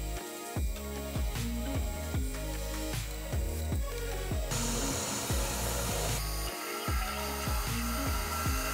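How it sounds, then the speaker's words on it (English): A large taper shank drill, about 1 5/16 inch, grinds steadily through metal, with repeated rhythmic chattering bites and a harsher, brighter stretch midway, close and loud throughout. "We're using a really large taper shank drill."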